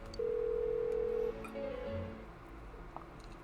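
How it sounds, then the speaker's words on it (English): Phone ringing out with no answer, from the video game Persona 4 Golden: a steady electronic tone lasting about a second, then a shorter tone, quiet and alone with faint background. "Why won't she pick up the phone?"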